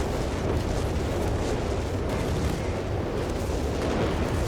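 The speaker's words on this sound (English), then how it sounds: "his Guasatori getting directly hit by the whiz-bang" Whiz-bang rocket artillery barrage in Company of Heroes 3 hammering infantry, a continuous dense roar of overlapping explosions and rumbling blasts, loud and unbroken.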